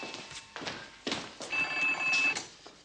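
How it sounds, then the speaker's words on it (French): An old telephone ringing indoors in a 1970s French setting, a tonal bell ring over shuffling movement and footstep-like knocks, moderately close with no speech. "Téléphone."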